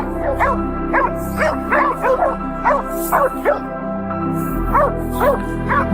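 Hunting dogs bark and yip excitedly at a cornered wild boar in a ditch in dense brush, a loud, continuous burst of overlapping barks with whimpers mixed in.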